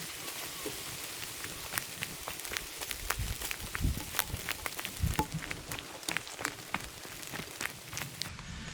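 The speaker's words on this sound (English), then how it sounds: "It's starting to rain." Rain falls outdoors on a trail, a dense steady patter with sharp drop taps on leaves and ground, plus a few low thumps like footsteps, close and moderately quiet.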